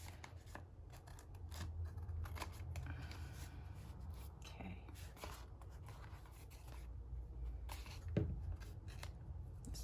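Scissors trim the edges of paper pages for a junk journal, close and quiet, with repeated snipping cuts and soft paper rustling throughout and no talk.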